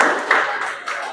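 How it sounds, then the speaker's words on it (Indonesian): Students in a classroom clap briefly after quiz results are announced, a short burst of scattered, fairly close applause. "Tepuk tangan ya"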